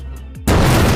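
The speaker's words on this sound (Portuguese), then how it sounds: "uma outra explosão acontece" A sudden loud explosion bursts inside a train carriage after a brief lower-toned lead-in, filling the space with a sustained roaring blast to the end.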